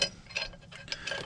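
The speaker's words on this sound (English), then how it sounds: "Out where a rigid wrench is your friend." A rigid wrench ratchets a bolt during battery disassembly, giving several quick clicking pulses close by with short gaps between them.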